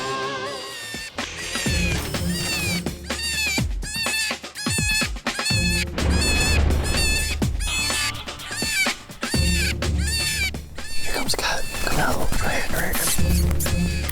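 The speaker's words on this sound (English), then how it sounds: "I gotta start with a distress sound. So I always start with like a Eastern Cottontail." A predator call plays an Eastern Cottontail rabbit distress sound outdoors during a hunt in Mississippi, with loud, repeated wavering squeals in bursts of cries across the whole stretch.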